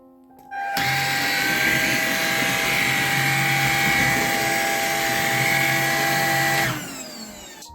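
Tineco GO Flex cordless stick vacuum cleaner running with its power brush attached, a steady loud motor whine that switches on, holds for about six seconds and then winds down, with no talking.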